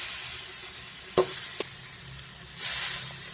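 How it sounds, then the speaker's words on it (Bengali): Ground spices of turmeric, chili, cumin, coriander and meat masala stirred and fried in a pan, a soft sizzle broken by a couple of sharp utensil knocks, then a louder hiss near the end, no talk. "মশলাটা দিয়ে আবার ভালো করে নেড়ে চেড়ে ভালো করে ভেজে নেব।"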